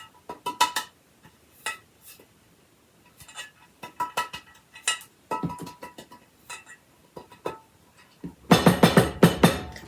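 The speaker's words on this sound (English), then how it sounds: "we're just going to shake that all around until everything's coated, so our coffee cake can release from the pan easily" Flour being shaken around inside a metal cake pan to coat it for a sourdough coffee cake, a series of close tinny clinks and rattling taps in irregular bursts, ending in a louder, denser rattle.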